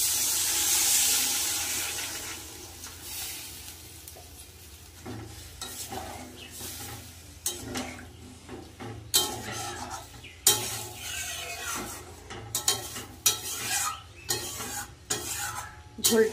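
Water poured into a pan of fried curry spices sizzles and bubbles, with a spoon stirring and scraping against the pan in irregular bursts, loud and close, no talking.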